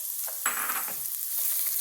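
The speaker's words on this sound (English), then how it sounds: "Love that sizzle" Onions sizzle steadily in hot oil, a bright crackling hiss with a stirring scrape partway through, close up and with no talking.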